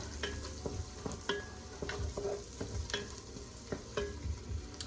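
Broccoli cheddar soup stirred in a pot, with steady scraping and clinking strokes of a utensil over a low simmering sizzle, close and continuous.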